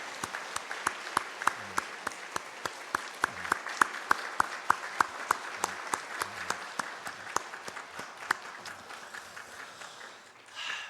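Applause during a Sunday church worship service, for the congregation's mission groups and overseas mission department; a modest group of separate, distinct hand claps in an irregular stream for about ten seconds, fading at the end.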